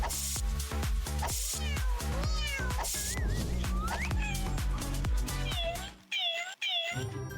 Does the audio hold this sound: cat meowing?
yes